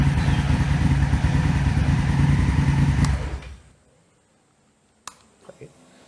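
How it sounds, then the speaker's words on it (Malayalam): A Honda Africa Twin motorcycle engine runs loud and close for about three seconds, then cuts out into quiet, followed by a sharp click and a few faint clatters. "സ്റ്റാർട്ട് ബട്ടൺ പ്രസ് ഡൗൺ ചെയ്താണ് വണ്ടി സ്റ്റാർട്ട് ആവുന്നത്"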